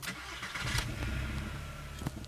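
A cheap used VW Golf GTI in Germany cranks and fires up nearby, its engine catching and settling into a steady idle.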